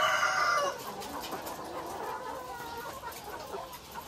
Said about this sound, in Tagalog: Yan po yung ating mga bagong manok, mga kaitlog.